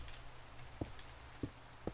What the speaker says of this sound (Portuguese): Ah, não. Chuva não.